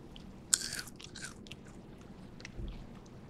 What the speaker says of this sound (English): Tasting it dry, you can hear it. It's crunchy.